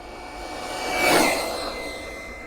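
A Traxxas RC car on stock gearing launches from a standstill at full throttle, its motor whine rising to a loud peak and then fading as it speeds away, with no talk.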